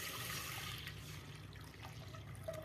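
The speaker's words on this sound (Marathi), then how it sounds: "1 गडवा पाणी टाकलंय।" A jug of water poured into a pressure cooker holding dal makes a continuous close gushing, trickling stream that stays fairly even for the whole stretch, with no voices.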